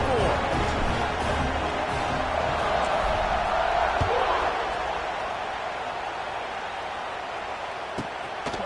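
A football stadium crowd buzzes and murmurs after a touchdown, a broad steady roar that swells and then eases, with a commentator talking over it.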